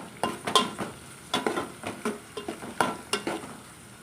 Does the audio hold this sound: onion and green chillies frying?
yes